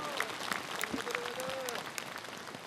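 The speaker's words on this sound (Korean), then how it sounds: "저희들의 동의와 동참의 결의를 담은 힘찬 박수를 보내주시기 바랍니다" A gathering at a national Korean Buddhist monks' assembly claps for a speaker, with moderately faint, steady applause and a voice carrying over the top.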